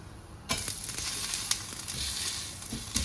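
Ragi rava dosa sizzles in oil on a hot pan, a steady bright crackle that starts suddenly and continues close and loud with small pops, no voices.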